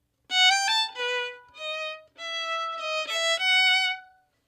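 A violin plays a short, tricky Bach passage alone, with quick bowed notes in several phrases separated by brief gaps, clear and close.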